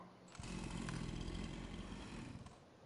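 A chainsaw in Farming Simulator 25 runs at a steady, droning buzz for a couple of seconds, fairly loud and alone, with no speech over it.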